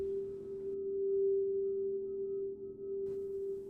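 A synth pad patch called grass critter plays a single held note, a steady tone with a soft, slightly undulating texture that evolves quietly and alone.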